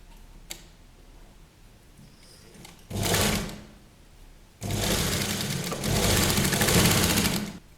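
A sewing machine stitching a children's Patiala dress starts with a brief close burst of needle chatter, pauses, then runs in a longer, steady, loud stitching stretch.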